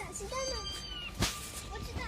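A kitten meows softly in a high, drawn-out cry over background noise, with a short sharp sound in the middle.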